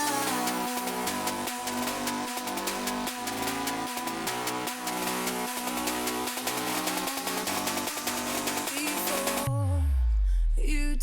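Future bass build-up produced in FL Studio, with pulsing chords and a steady rhythmic beat swelling under a bright riser, then suddenly dropping out into a deep downward sweep before the drop.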